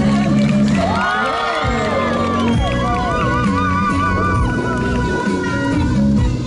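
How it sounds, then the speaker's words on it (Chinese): Outdoor crowd at a festival performance in Tainan cheering, whooping and shouting for performers on stage, with loud overlapping voices, music and swooping tones layered over a continuous lively din. "是不是给我们台上的这些表演者热情的掌声，来点尖叫声！"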